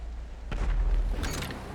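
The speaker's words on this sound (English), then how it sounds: "Another weapon option you have are missiles." Missiles launch and burst in a combat video game, a brief deep boom swelling then rumbling, followed by a few crackling blasts, loud and close with no talking.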